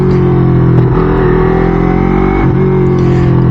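A Yamaha MT-03 motorcycle engine braking as the rider rolls off the throttle at about 30 km/h, a loud, close, steady engine drone with a slight drop in pitch and no pause.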